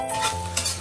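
Brief scraping of a spoon through egg pieces frying in a wok, a short close stir over a steady hiss of oil, with no voices.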